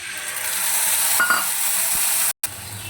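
Ginger garlic paste drops into a wok of reddish fried onions and black cumin seeds and sizzles loudly, with stirring sounds. A short silent break comes near the end, and no one speaks.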